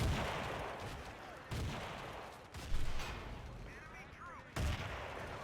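Grenade blasts and gunfire in Battlefield 2 during a 31 vs 31 competitive match, several heavy booms punctuating dense, continuous battle noise with a commentator's voice running underneath.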